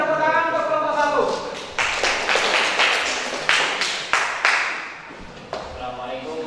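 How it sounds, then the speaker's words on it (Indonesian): A school class claps for group one: a burst of handclaps from students that rises after a second, then breaks into several uneven rounds of clapping with short gaps. Voices can be heard before and after. "kasih tepuk tangan untuk kelompok satu"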